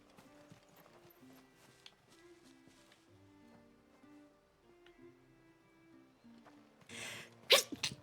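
A single sharp sneeze bursts out near the end of a quiet fantasy game scene, preceded by soft horse hoof clip-clops and faint ambient music.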